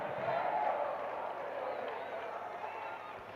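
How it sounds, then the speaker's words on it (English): Rugby league crowd roaring in support of Oldham during a match against London Broncos, a loud, sustained wall of cheering that swells early and then holds steady for several seconds. "The crowd will tell you before I do, they're right behind it far side"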